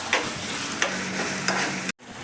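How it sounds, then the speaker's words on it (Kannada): Green chillies tempering in hot oil in a pan, a steady close crackling sizzle with a few sharp stirring scrapes, cutting off abruptly near the end before resuming. "ಹಸಿಮೆಣಸು ಇಷ್ಟು ಹಾಕಿದ ಒಗ್ಗರಣೆ ಹೀಗಿರುತ್ತದೆ"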